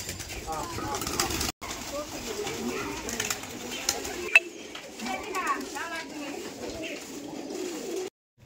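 Giribaz pigeons from Rajshahi coo softly and repeatedly at close range, over a steady murmur of background voices and faint rustling, with a brief dropout partway through.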